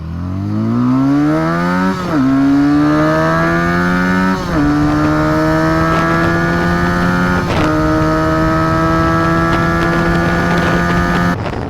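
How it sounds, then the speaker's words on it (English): A 2017 SSR 300 Benelli motorcycle with its stock exhaust revs loud and close, pitch climbing in several rising pulls with brief dips between, a deep continuous engine drone with no talking. "stock exhaust sounds just deep and growly and mean"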